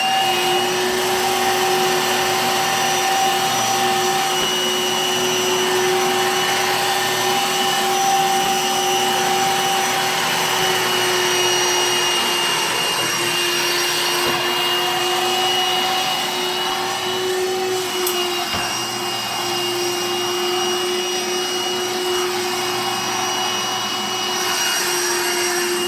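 A Bissell ReadyClean PowerBrush 47B2 carpet cleaner runs on carpeted steps with a steady, high-pitched motor whine and brush whir that stays constant for the whole stretch, with no voices.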